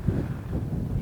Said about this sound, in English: A bit windy up here though.